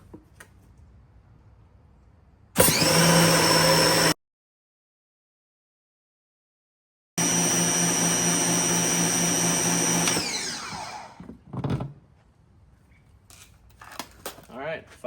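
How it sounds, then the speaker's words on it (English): A gas pressure washer runs in a triple pressure washer setup, giving a loud steady whine in two long bursts split by silence, then winding down into clattering handling noises. "Start the pressure washer in there"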